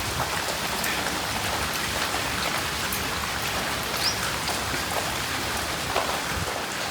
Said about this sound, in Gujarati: એકદમ મજા આવે એવો વરસાદ આવે છે